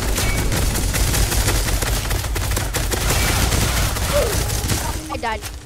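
SCAR rifle fire in the game Weaponry crackles in dense, continuous volleys of shots throughout, with a player's voice briefly heard near the end.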